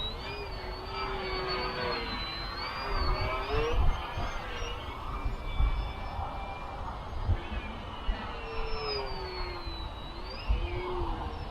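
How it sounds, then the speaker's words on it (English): An XK A600 RC airplane electric motor whines steadily in flight, its pitch rising and falling with throttle changes, heard outdoors at moderate distance against wind noise. "I'm using the throttle to keep the airplane facing the wind and trying to have it stand still."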